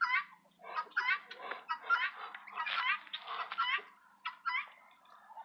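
Muscovy ducks on a small farm giving a series of soft, breathy hissing and chuffing calls in irregular bursts, fairly quiet with a low background hum.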